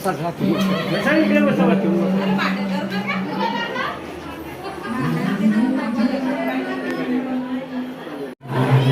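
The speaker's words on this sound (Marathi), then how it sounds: "जाम गर्दी आहे गाईस, तरी अजून थोडी थोडी कमी होत चालली," A crowded haldi ceremony fills the space with dense overlapping chatter, laughter and children's voices, a busy close-up babble with one voice standing out near the middle.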